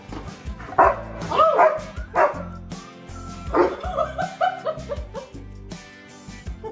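A protective dog barks in loud, repeated bursts of woofs and yips across a live stream, with some whimpering between barks and a faint laugh or voice in the background.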